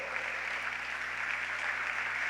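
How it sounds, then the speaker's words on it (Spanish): A church congregation applauds during a sermon, a soft, distant wash of steady clapping with no voices on top, under a low constant hum. "Dele fuerte el aplauso al Señor, hermano."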